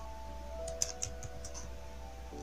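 A few light clicks of keys being pressed on a computer keyboard, faint and closely spaced against a steady electrical hum in a quiet room.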